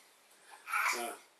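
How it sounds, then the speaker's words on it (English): Young children babble faintly in the background, making a brief burst of high, wordless vocal sounds. "Guess you can hear the kids over here in the background"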